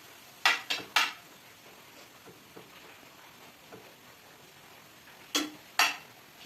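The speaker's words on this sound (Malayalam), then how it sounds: "അവൾ നല്ലോണം മിക്സ് ചെയ്യുന്നുണ്ട്" Soya bean fry being mixed in a bowl, heard as a few sharp clinks and knocks of a utensil against the bowl in two small clusters, with quiet stirring between them and no speech.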